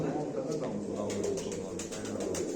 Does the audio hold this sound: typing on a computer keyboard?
no